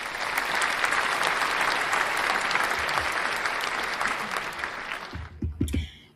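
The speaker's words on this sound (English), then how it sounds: "Round of applause for Nadia." An audience at an African women in games forum claps in a dense, sustained round of applause that gradually thins and fades, followed by a few words of speech.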